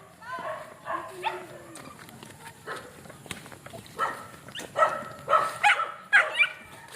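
Several dogs bark and whimper in short, irregular bursts at close to moderate range, mixed in with people talking nearby outdoors.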